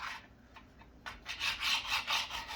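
A knife works through meat, cutting it into small steak-like pieces, giving soft rhythmic rasping strokes that grow firmer and closer after a quiet start.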